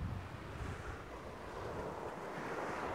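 Sea waves roll onto the beach at Vityazevo in mid-autumn, a soft, continuous low surge mixed with wind buffeting the microphone, steady throughout with no voices.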